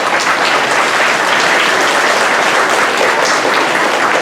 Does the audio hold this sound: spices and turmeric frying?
no